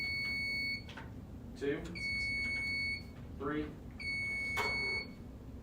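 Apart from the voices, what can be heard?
quiz competition buzzers being tested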